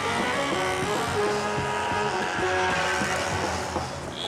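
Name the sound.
small motorbikes in city traffic in Cotonou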